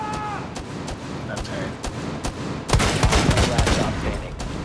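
Gunfire in Rainbow Six Siege on the Plane map in team deathmatch: scattered single shots over a busy game background, then a fast, loud volley of rapid automatic fire that keeps going to the end.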